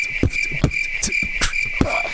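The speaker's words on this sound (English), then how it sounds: "Beatbox into the crickets." Crickets chirping as a sound effect, a steady high-pitched trill repeating continuously and loud, with rhythmic percussive pops pulsing beneath it like beatboxing.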